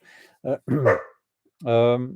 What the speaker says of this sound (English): one of the dogs is just telling someone off down at the path there